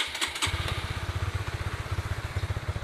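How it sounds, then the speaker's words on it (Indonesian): A motorcycle engine catches after a brief start and settles into a steady, rapid idle thumping close by. "Oke, motor sudah nyala ya."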